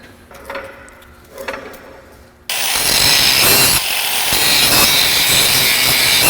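Loud, continuous grinding of metal on a Ford Fox Body held up on a lift while frame connectors go in, starting abruptly after a quieter stretch of scattered workshop clatter and running steadily to the end.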